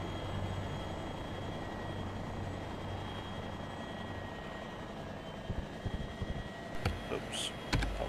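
CH-47 Chinook helicopter in the FlightGear flight simulator, a steady low rotor and engine drone that runs throughout, with a few clicks near the end.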